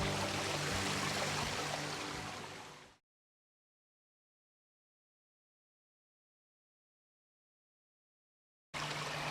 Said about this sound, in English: A water feature in your garden, it just changes everything